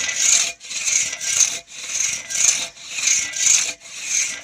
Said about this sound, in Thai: เลื่อยคนเดียว ปกติมันเลื่อยสองคน แต่เราก็เอามาดัดแปลง